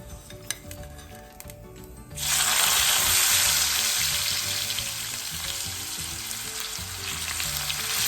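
Thin carrot slices drop into hot oil for a string hopper mix. After about two seconds of quiet kitchen clatter, a loud, steady sizzle bursts up and keeps going with occasional stirring.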